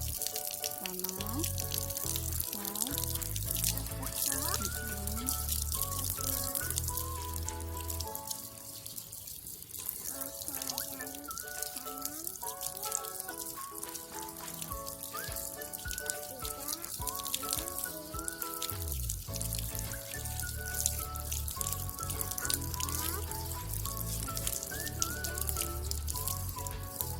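A tap runs steadily as water flows for handwashing, a continuous hiss lasting throughout under louder melodic background music.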